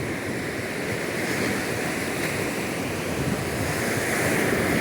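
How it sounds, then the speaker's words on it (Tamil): Continuous cold wind blows across the beach, a broad steady roar mixed with the wash of surf, unbroken for the whole stretch. "குளிர்ந்த காற்று வீசுது"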